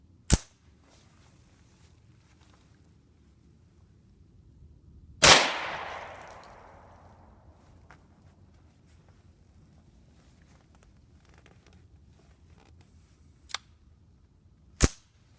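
A single sharp report from a new 22 Magnum WMR rifle fitted with an aftermarket high-capacity magazine rings out and decays, surrounded by quiet with a few faint clicks and handling knocks.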